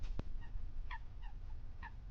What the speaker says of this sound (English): It was just some birds.